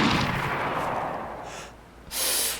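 Gunshots hitting a player in the DayZ video game: a heavy, booming shot that rolls away into a long fading echo, followed about two seconds later by a second sharp, loud crack.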